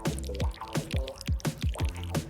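Honey poured into a bowl for a homemade gelatin mixture, heard as a run of bubbly, bloop-like dripping plops that fall in pitch, repeating about every half second, fairly close and with no talking.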